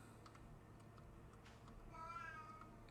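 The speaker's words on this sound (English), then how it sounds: "And there's the cat making quite a fuss again." A cat meows faintly in the background, a brief drawn-out whine rising near the end over soft keyboard typing and low room noise.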